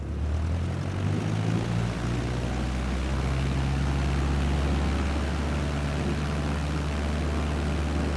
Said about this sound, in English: you're clear for takeoff. Apply full power